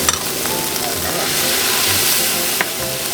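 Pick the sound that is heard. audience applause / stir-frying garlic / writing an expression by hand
stir-frying garlic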